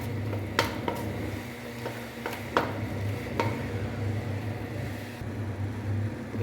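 A utensil stirs tokwa sisig (tofu) with seasoning sauce in a pan, making repeated scraping clinks and light knocks against the pan over a soft background sizzle, close and fairly quiet.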